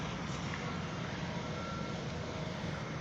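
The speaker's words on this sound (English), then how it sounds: "There's another concrete truck coming in." A concrete truck backs up on a Los Angeles building site, its reversing alarm faint under a steady broadband rumble of engine and site noise, with no one speaking.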